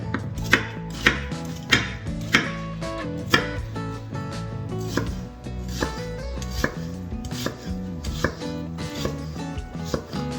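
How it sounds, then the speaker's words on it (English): A knife dices an onion on a cutting board, steady close rhythmic chopping taps that continue throughout, with a few louder strikes at the start and no talking. "we'll get us 1 onion, diced up"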